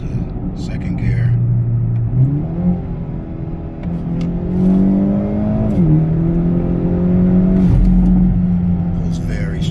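A Hyundai Elantra N tuned with a JB4 accelerates hard in second gear, its engine drone rising in pitch, dipping briefly and climbing again as heard from inside the cabin, loud and continuous.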